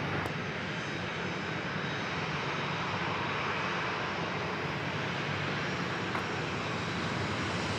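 An airliner arriving from Boston roars steadily on approach to land at San Diego airport, a loud continuous broadband engine rumble with no pauses, heard alone without voices.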